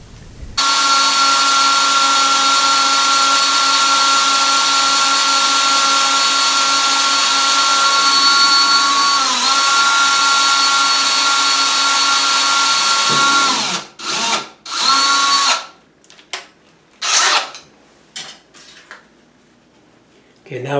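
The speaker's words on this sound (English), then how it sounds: "we're going to drill a small hole in the wood" A power drill bores a small hole into a wooden stud for a bathroom vanity, whining loud and steady for about thirteen seconds before stopping, followed by short clattering handling noises.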